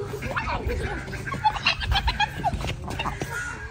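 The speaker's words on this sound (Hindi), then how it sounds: "बच्चे जो है ना वो इधर बतखों को पागल कर रहे हैं" Ducks squawk and cluck in short, overlapping bursts as children chase them near new construction on village farmland, with a steady low rumble underneath.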